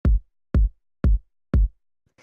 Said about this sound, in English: The first one here is this kick